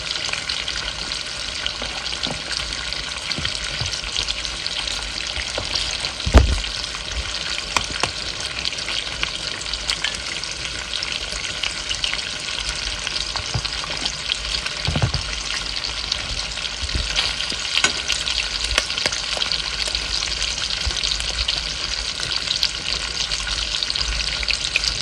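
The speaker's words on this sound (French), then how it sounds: "Nous continuons à casser nos œufs." Eggs fry with slices of saucisson in a pan, giving a steady, close crackling sizzle throughout, broken by a couple of brief sharp knocks like shells being cracked, with no talking.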